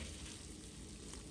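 Shrimp with sliced coconut and masala fries in a pan Kerala style, giving a steady, soft, even sizzle with faint crackle and no voices.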